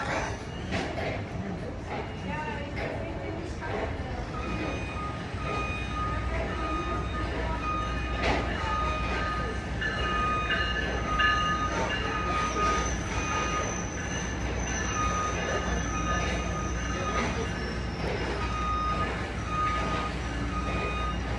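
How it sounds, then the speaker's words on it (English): A train pulls into a station, its steady rumble and rail noise filling the scene with high wheel squeal and tonal whines drifting over the top, while people talk nearby. "Okay, the train's here."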